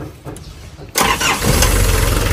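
A car engine cranks and catches after a cylinder head repair, a quiet lead-in giving way at about one second to a loud start that settles into a steady, close running roar.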